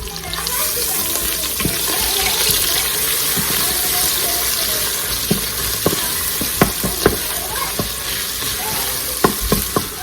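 Onion and ginger fry with panch phoron spices in an Instant Pot, giving a steady close sizzle with scattered sharp clicks and taps from stirring and the spoon against the pot.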